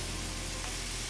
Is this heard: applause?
no